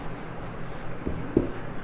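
Chalk or marker writing on a classroom board during a Hindi-language physics lesson on alternating current, a few faint scratchy strokes, the clearest near the end, over low room hiss.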